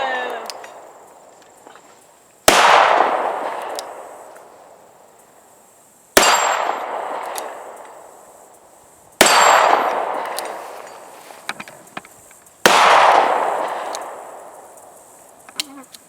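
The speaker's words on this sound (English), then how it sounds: "you can hit those steel targets no problem." Taurus Model 85 .38 Special revolver shots striking steel targets at a range, four loud sharp bangs with ringing metallic decay spaced several seconds apart, with faint background sounds between.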